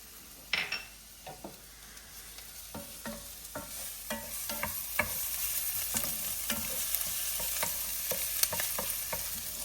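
Onions frying in a pan with a tablespoon each of butter and olive oil: a steady close sizzle runs throughout, punctuated by irregular scraping and clinking from stirring with a utensil.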